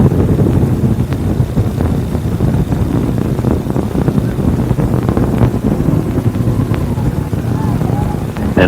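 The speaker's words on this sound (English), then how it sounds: "Engine throttling down now to maintain a certain speed as the spacecraft passes through max Q." Space Shuttle Discovery's main engines on the STS-26 launch, throttled down through max Q, make a steady, dense, low roar that holds level and unbroken for the whole stretch, with a windy rushing texture on top.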